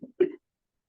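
A single short cough, preceded by a faint throat sound, close and fairly quiet, followed by silence.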